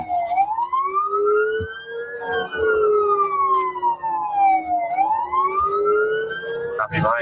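A police siren wails loudly and continuously, its pitch sweeping up and down in long rising and falling cycles, with faint voices underneath.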